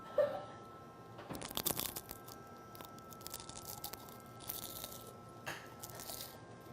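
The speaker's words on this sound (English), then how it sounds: "This is the sound of me eating a baklava." Someone crunches into a baklava, flaky pastry crackling in a few close, scattered bites followed by quieter chewing, against a soft steady background hiss.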